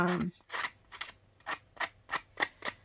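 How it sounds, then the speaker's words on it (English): Light, sharp metallic taps repeat in a steady rhythm, about six or seven close-up clicks, with a faint voice at the start. "Just hitting them with the side of your scissors."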